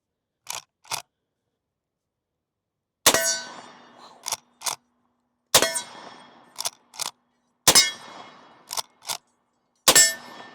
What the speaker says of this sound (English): Take about 8 shots at that plate down there